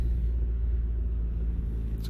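An old Honda car engine idles steadily with a low, even rumble, close and continuous, with no voices.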